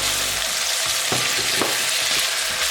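Sliced garlic and onions fry in a hot pan for an okra stir fry, giving a loud, steady sizzle with a few stirring scrapes and no talking.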